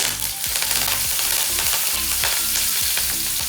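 Cumin, asafoetida and curry leaves crackle and sizzle as they are tempered in hot oil, along with mustard seeds. The frying is loud and continuous, with dense popping throughout.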